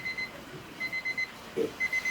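An electronic alarm beeps in quick repeated bursts, thin and high-pitched, at moderate volume over a faint background hum.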